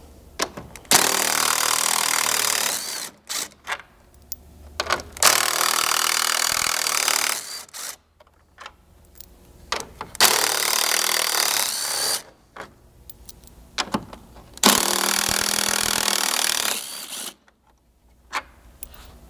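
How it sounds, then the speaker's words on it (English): Power tool driving a 10mm socket to undo the grille mounting screws on a Ford Bronco during a front bumper install, loud whirring bursts of a few seconds each, repeated four times with short quiet pauses between. "you'll undo these 4 mounting screws using a 10mm socket"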